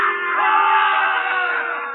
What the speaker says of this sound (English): The crowd encouraged to jeer at the man of truth.